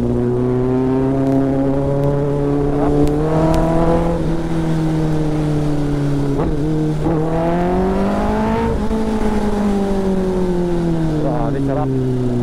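A Kawasaki ZX-10R motorcycle cruising on an open, traffic-free road, its steady engine drone rising and falling gently with throttle changes, loud and continuous with wind noise throughout.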